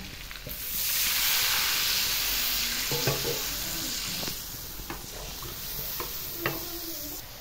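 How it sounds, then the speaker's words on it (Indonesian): Water poured into a pan of frying spice paste for seblak gives a loud sudden sizzling hiss that settles into a steady bubbling fry, with occasional stirring clinks and scrapes and no voices. "Setelah sendinya agak mengering, kita masukkan air."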